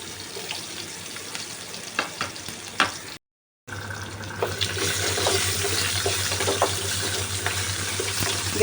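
Raw green banana and sweet potato pieces fry in a pan on a lowered gas flame, giving a steady, continuous sizzle with occasional sharper pops and a short silent gap partway through.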